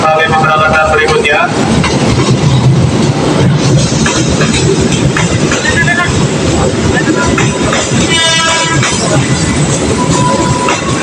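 A train rolls into Jatinegara railway station in Jakarta, a loud, steady rumble of wheels on rails with metallic rattling and a faint squeal, continuing throughout with station noise around it.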